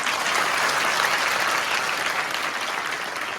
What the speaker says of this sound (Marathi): आणखीन एकदा जोरात टाळ्या वाजवा